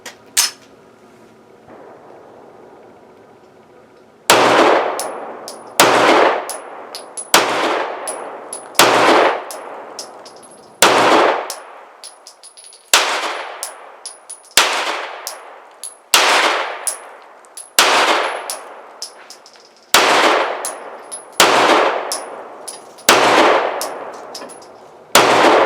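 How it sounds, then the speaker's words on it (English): Girsan MC P35, a 9mm Hi Power clone pistol, fires 115 grain jacketed rounds in about a dozen loud, sharp, evenly spaced shots with ringing decay, preceded by a brief quiet handling noise. "this time I'm gonna be firing the bronze stuff, 115 grain jacketed bullets"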